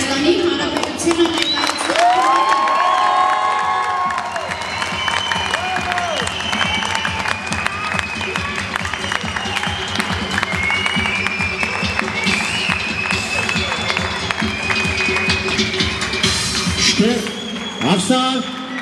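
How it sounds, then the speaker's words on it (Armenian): Warm applause greets the Republic of Armenia team at a tournament opening ceremony, a steady crowd clapping under a loud announcer's voice and echoing music or hall tones throughout. "Եվ ամենաջերմ ծափահարություններով դիմավորենք Հայաստանի Հանրապետությունը"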